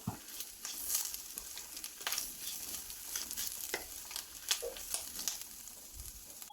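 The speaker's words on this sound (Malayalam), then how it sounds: "ഇനി നമുക്കിത് ഫുള്ളായി വറുത്തെടുക്കാം." Masala fries in a spoonful of coconut oil over a low flame for a Kerala-style crab curry, with a quiet crackling sizzle punctuated by frequent scraping strokes of a spoon stirring the pan.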